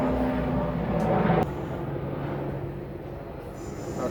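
A helicopter passes overhead, a loud droning engine and rotor roar that holds steady, drops sharply partway through, then lingers as a fainter, receding hum with no talking.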